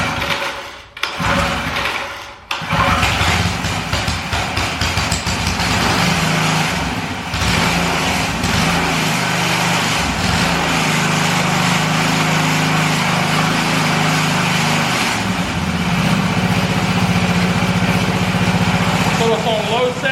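Briggs & Stratton small engine pull-started on choke at the fast setting, starting after a couple of pulls and then running steadily and loudly close by with a droning hum.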